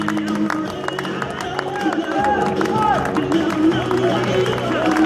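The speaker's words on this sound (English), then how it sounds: "Come on, let's have a little round of applause as these guys maintain their balance" A crowd watching blindfolded performers balance on a Wheel of Death stunt rig claps in a scattered, moderate round beneath an announcer's amplified voice and the murmur of onlookers.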